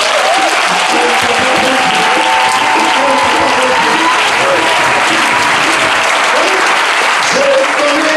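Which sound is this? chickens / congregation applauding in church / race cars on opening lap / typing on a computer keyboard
congregation applauding in church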